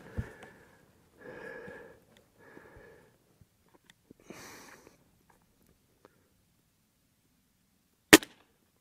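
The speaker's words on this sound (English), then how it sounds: "Let's take another shot here." A single sharp crack from a Gamo Swarm Magnum Pro 10x Gen 3i .177 air rifle fired while sighting in its scope, loud and close, coming after several seconds of quiet breathing and faint handling noises.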